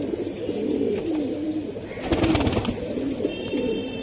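Pigeons kept for sale coo in low, throaty rolling calls that repeat close by, with a brief burst of flapping or rustling in the middle and no talking.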